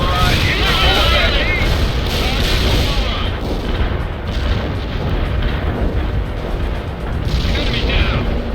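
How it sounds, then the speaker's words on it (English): Artillery barrage explosions in the video game World in Conflict, a dense continuous roll of booming blasts and rumble, loud and close throughout. "Artillery barrage in full effect."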